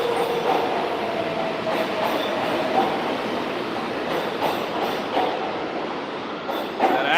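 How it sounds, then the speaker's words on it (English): A New York City 7 subway train rolls past close by, a loud sustained rumble and roar with metallic rail screech and faint squealing tones throughout, filling the whole stretch without pause. "The 7 train just passed me."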